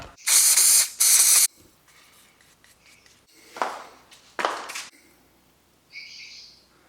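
Short hissing bursts of Poison Venom spray paint, two strong back-to-back blasts up close followed by lighter, scattered spritzes and a faint final puff, with quiet gaps between them.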